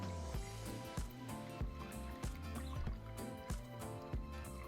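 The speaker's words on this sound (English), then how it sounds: "we're going to whisk everything together" Sweet and sour sauce gets whisked in a pan over medium heat, with quiet, regular rhythmic strokes and light liquid sloshing, no talking.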